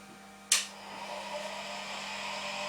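A Schaublin lathe's coolant pump starts abruptly with a brief burst of spray, then settles into a steady whooshing flow of coolant that hums on without speech.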